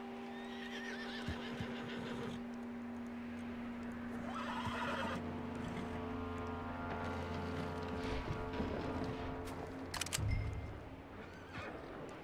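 A horse in the video game Red Dead Redemption 2 whinnies near the start, with clip-clopping hooves and a continuous ambient game soundscape underneath, moderately quiet overall.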